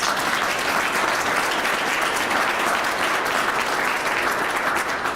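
An audience at a Western Canada Summer Games partnership announcement at Noralta Lodge gives a round of applause, a loud, even wash of many clapping hands held throughout.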